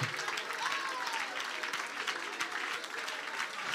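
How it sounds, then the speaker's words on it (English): Church congregation clapping together in a dense, steady wash of applause that carries on throughout, with voices faintly mixed in beneath the clapping. "Somebody clap. Somebody clap."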